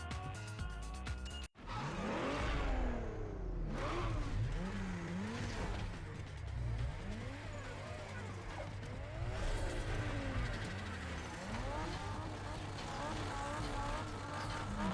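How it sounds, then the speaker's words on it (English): Loud race cars rev and roar through a street race in the video game Need for Speed Underground, with sweeping engine pitch changes and tire noise layered under continuous voices. "that guy holding his ears because the cars are too loud"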